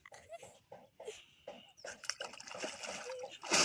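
Cold water splashed by hand onto the ears outdoors in a Bangladeshi village, soft brief splashes and dribbling, ending in a louder splash, with a voice in between.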